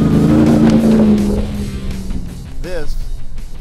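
A 2021 RAM TRX pickup is driven off-road, its engine a loud, close, rumbling roar that eases off and then surges again, with a rising whine near the end.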